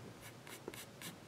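Pencil shading on paper, four short brisk scratchy strokes in an even rhythm, close up and quiet, with no voices.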